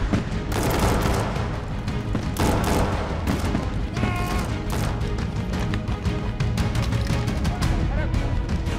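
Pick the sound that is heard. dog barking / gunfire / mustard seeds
gunfire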